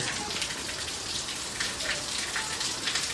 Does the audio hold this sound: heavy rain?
yes